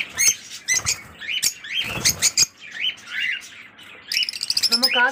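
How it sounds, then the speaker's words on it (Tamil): African lovebirds in a cage give rapid, busy chirps and sharp tweets close by, with bursts of fluttery calls and light scratchy patter, ending in a quick run of repeated chirps. "African love birds"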